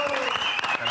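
A television studio audience applauds a Tejano norteño band, a brief burst of clapping, with a sustained tone running beneath it.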